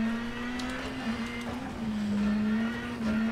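A steady, buzzing engine drone holds a nearly constant pitch inside a rally car in the video game WRC 10, with faint tire and road noise around it and no voices.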